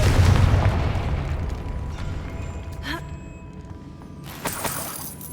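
Hogwarts Legacy gameplay: the Confringo fire spell lands with a heavy, booming explosion, then a crackling, creaking rumble fades out. A second, sharper burst comes near the end, all close and full.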